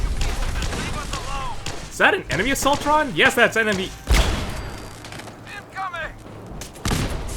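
Bursts of Fallout 4 gunfire crackle and thump through the clip, partly under two voices talking back and forth.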